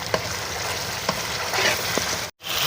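Spiced masala with green chili paste fries in a pan for Lahori chickpea curry, giving a steady close sizzle with a few scraping stirs, then a brief dropout near the end before the frying resumes.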